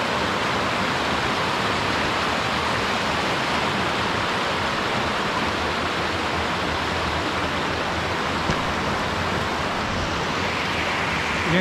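White Hill waterfall in a ravine in Pictou County, Nova Scotia, pouring steadily after heavy rainfall: a dense, constant broadband roar at even loudness throughout, with no voices over it.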